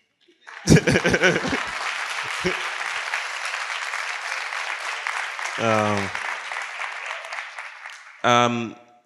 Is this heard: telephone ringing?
no